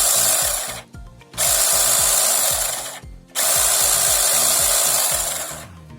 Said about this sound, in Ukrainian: давайте спробуємо вставити сюди акумулятор і спробувати як вона ж працює